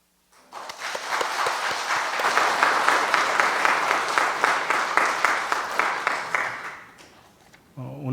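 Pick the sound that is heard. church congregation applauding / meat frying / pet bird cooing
church congregation applauding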